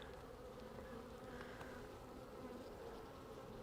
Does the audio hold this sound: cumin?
no